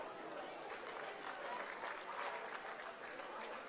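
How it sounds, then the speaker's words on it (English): Applause for staff and volunteers at a Rugby League Nines Commonwealth Championship in Queensland, Australia, a steady wash of distant crowd clapping, faint and continuous. "Please join me in giving all of them a round of applause."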